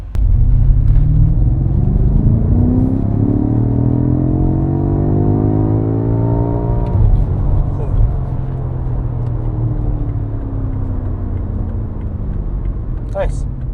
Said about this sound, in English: At around 1700 RPM, we did full throttle the car.